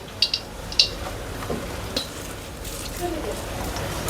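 A hot wok with a little oil and meat masala, frying gently with a soft sizzle and a few sharp clinks of utensil on metal, while a person talks over it.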